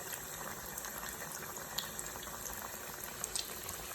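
Malai kofta balls bubble and fry in hot oil, a steady dense crackling sizzle with scattered small pops, close and continuous with no talking.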